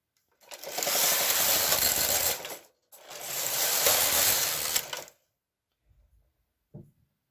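A KH940 knitting machine carriage makes two long, loud mechanical clattering passes across the bed, separated by a short pause, followed by a few faint clicks and a brief knock.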